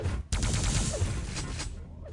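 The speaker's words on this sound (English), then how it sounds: "Oh, gunshot." Gunfire from the Quake Live arena shooter during a LAN tournament final, a sudden loud burst of shots and whooshing effects that starts abruptly and carries on for about two seconds.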